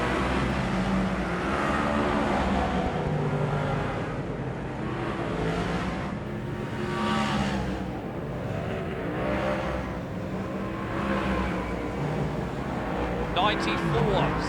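Speedway race cars roar along the main straight of a Rotorua dirt-track night, engine noise swelling and fading as cars pass, under continuous commentary.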